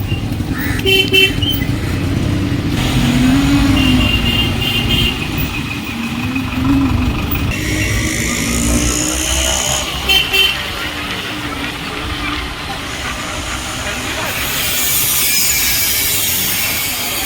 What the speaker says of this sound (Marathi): एकदा ट्रॅफिक लागली म्हणजे सगळीकडे ट्रॅफिक ट्रॅफिक ट्रॅफिकच लागते